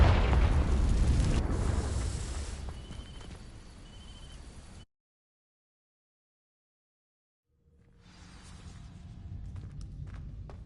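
Confringo fire spell from Hogwarts Legacy bursting against dry vines: a loud, close explosive roar that fades over several seconds, then silence, then quieter crackling and rumbling returns.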